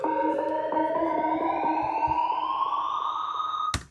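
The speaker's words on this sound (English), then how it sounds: "If you take a reverb tail from your lead, pitch it up over time, you can kind of create a riser" A synthetic whooshing riser made from a synth lead's reverb tail pitched up over time, sweeping steadily upward in pitch for several seconds, smeared and reverberant, then cutting off abruptly near the end.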